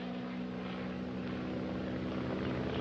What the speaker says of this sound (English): Or if it isn't bad actors, it's noisy airplanes.